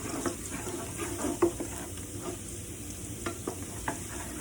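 Garlic fries in a big pot with a soft, continuous sizzle, broken by a few faint clinks and stirring scrapes, fairly quiet and without talk.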